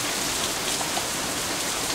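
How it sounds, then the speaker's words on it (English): Heavy rain pours in the visual novel game Katawa Shoujo, a dense, steady hiss of downpour that stays loud and unbroken throughout. "The rest of my voice is completely drowned out by an even heavier burst of rain."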